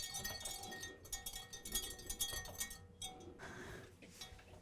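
Light clinks and scrapes of a spoon against a glass bowl, stirring Jell-O into cold water, irregular and close, with brief pauses between stirring strokes.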